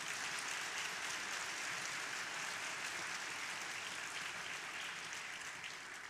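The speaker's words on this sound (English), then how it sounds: "let us give them a warm round of applause" Sustained applause from a church congregation for confirmation candidates at a Second Sunday of Easter service, a steady dense wash of clapping that stays even and fairly soft from start to finish.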